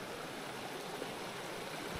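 A mountain torrent rushes over huge boulders, a dense, continuous roar of flowing water heard close and steady throughout.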